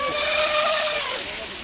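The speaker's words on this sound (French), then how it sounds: "Le moteur Quartz 2 cm3 fonctionne vraiment très gentiment." A radio-controlled steam launch powered by a Quartz 2 cc steam engine runs on the water, giving a steady, continuous hiss and hum with a thin whistling tone, fairly close and fading slightly toward the end.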